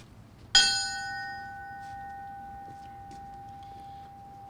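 A single memorial bell strikes once at a firefighter memorial ceremony in Edmonton, Alberta, then its clear ringing tone hangs and slowly fades over several seconds in a quiet hall.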